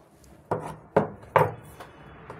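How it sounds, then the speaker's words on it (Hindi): Scissors snip through extra organza fabric while trimming a lined kameez collar, giving three crisp cuts spaced about half a second apart, close and fairly quiet, with no talking. "अब हम यहाँ पे दबाव छोड़ते हुए एक्स्ट्रा कपड़े को काट देंगे।"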